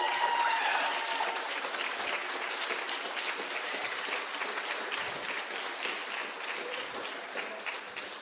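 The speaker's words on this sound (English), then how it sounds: "I want to hear a loud, thunderous round of applause for your folks here, your children, your students" An audience at a school ceremony gives a sustained round of applause, dense clapping that starts loud and slowly tapers while staying strong to the end.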